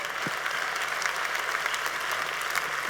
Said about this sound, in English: Applaud this film. Applaud this film.